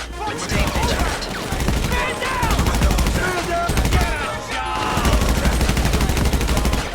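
Video game gunfire during a mission, dense rapid bursts of automatic shots crackling almost nonstop at close range, with brief lulls between volleys.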